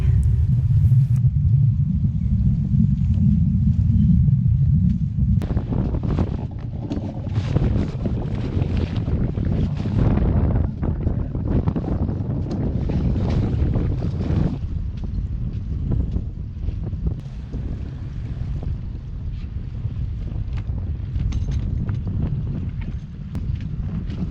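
Strong wind buffets a sailboat at sea, a loud, continuous low rumble of gusts against the microphone, with flapping and water noise steady throughout and no talking.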